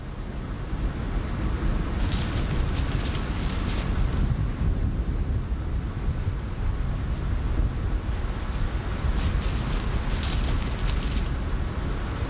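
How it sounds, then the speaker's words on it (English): Rain sweeps across the dry scrub and bush of the Kalahari, a dense, steady hiss of falling water mixed with gusting wind, loud and continuous with no voices. "As the rains sweep across the dry scrub and bush of the Kalahari"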